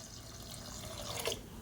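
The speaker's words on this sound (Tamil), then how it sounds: "இப்போ இதில் தண்ணி சேர்த்துக்கலாம்." Water pours briefly into a pot of steamed dal being made into a Tamil dal kuzhambu; a short, soft splash rises near the end over a quiet, steady background hiss.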